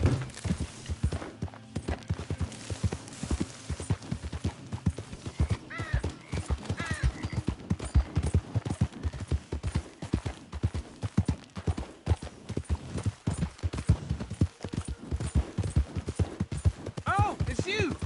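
Galloping hooves from a PS4 video game pound in a fast, steady rhythm throughout, close and loud, with game music and a voice occasionally over them.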